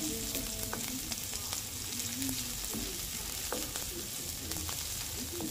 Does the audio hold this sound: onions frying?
yes